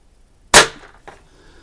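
A Barra 1866 pump air rifle fires once during target shooting, a single loud, close crack with a short tail, followed by a faint distant tick of the pellet striking.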